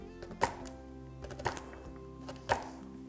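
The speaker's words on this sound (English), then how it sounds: "I'm gonna cut most of it into chunks" A knife chopping harvested broccoli into chunks on a cutting board, three distinct solid knocks spaced about a second apart with softer taps between, close and clear over a faint steady background hum.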